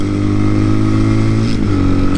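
A TaoTao TBR7 dirt bike engine pulls hard on gravel, a loud, close, steady motor drone with a slight shift in pitch as it accelerates.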